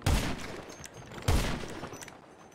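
Two loud weapon blasts about a second apart in the GTA video game on PC, each with a short rumbling tail. A few faint clicks follow.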